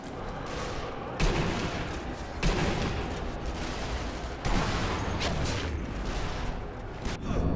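Gunfire echoes inside a church in Sniper Elite V2, bursts and heavy reports rolling through a dense, reverberant wash of battle noise, with sharp loud hits at intervals.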